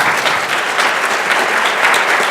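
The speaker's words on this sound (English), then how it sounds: "Just a round of applause for them." A conference audience applauds the panelists after an analytics panel discussion, producing a dense, steady burst of clapping that fills the room for a couple of seconds.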